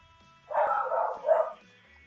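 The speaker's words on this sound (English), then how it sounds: "Sorry about the dogs." Dogs barking on a farm, a couple of short, fairly loud bursts in close succession with no talk over them.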